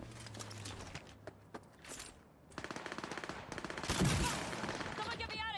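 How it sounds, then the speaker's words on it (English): Shotgun fire in the video game Cyberpunk 2077: a run of loud, sharp blasts and rapid impacts rising into a dense burst of gunfire near the end, with scattered in-game voices. "let's see how the shotgun works"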